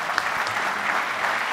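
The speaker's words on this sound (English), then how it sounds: "Let's give a round of applause." Conference audience applauding at a business technology event, a steady, dense wash of clapping from many hands filling the whole moment.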